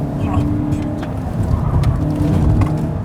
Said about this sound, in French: Mais elle a un petit vrombissement quand elle monte dans les tours qui est pas désagréable.